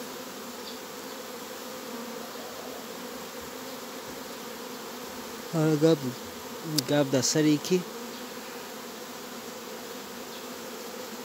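Honeybees in a first swarm make a constant loud buzzing hum. Someone speaks briefly over it partway through.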